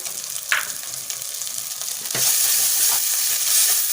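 A spice mixture for a cauliflower, potato and egg curry is sautéed in a pan with a little water. It sizzles steadily up close, a stirring scrape comes early, and then the frying hiss surges louder and keeps going.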